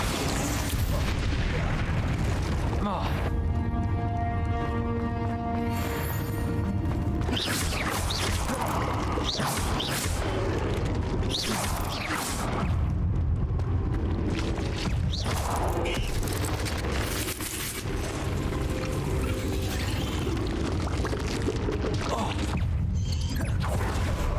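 Fire and blast spells cast during combat in the Hogwarts Legacy video game: loud, repeated booms, crashes and bursts layered thickly, with a constant dense roar throughout.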